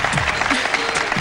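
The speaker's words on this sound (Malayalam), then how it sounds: "സൈലന്റായിട്ട് കൈയടിക്കൂ പ്ലീസ്" Brief audience clapping, a short patch of steady applause with a voice speaking over it.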